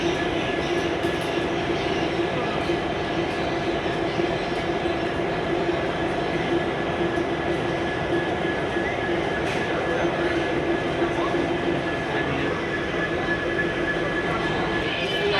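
A Siliguri to Haldibari passenger train runs with a constant rumbling roar and faint rail clatter heard from inside the carriage, with a voice speaking over it.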